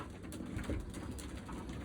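Pigeons coo in a coop housing young Budapest pigeons: low, soft, throaty murmurs that repeat steadily over a faint background hum, with a slightly louder coo near the middle.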